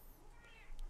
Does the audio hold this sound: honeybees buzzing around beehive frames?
no